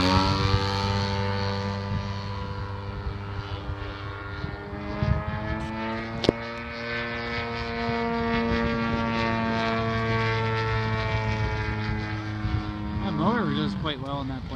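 A large model airplane, a Cessna 182 type, drones overhead with a strong, steady propeller whine that shifts in pitch as it passes near the end, while people talk nearby.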